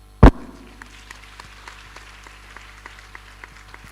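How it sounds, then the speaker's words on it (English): A crowd claps for the chairman at a student mentorship programme inauguration, opening with one sharp loud burst that quickly thins to scattered, fading claps through the rest. "Let's continue to clap for our chairman."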